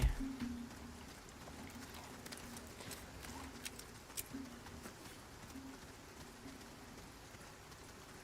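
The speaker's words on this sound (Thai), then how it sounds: "ตอนนี้ฝนก็ตกนะครับ ในเกม" Soft, steady rainfall in the video game Resident Evil 4 remake patters on surfaces, faint and continuous, with a few scattered heavier drops and thumps.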